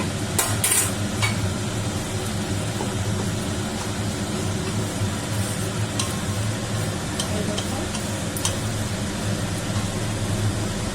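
Prawn curry being stirred in a pan, a steady low simmering bubble throughout with a few faint scraping clicks of the spoon near the start.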